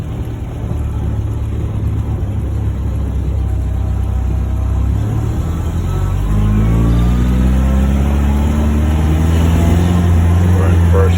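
A 1949 MG YT's engine idles with a steady low rumble, then rises in pitch as the car pulls away in first gear, loud and close throughout, with no one talking.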